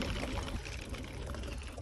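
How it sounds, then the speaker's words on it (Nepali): River water flows in a steady, loud, close rushing wash that continues without a break, with no talking. "खोला पानी"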